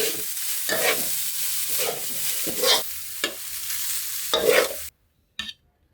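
Minced pork tossed rapidly with spring onions in a hot pan, a loud continuous sizzle broken by brisk repeated scraping strokes, up close, ending abruptly in silence with one last short clatter.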